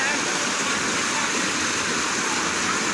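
Floodwater rushing across a destroyed road makes a loud, unbroken roar of churning water close by.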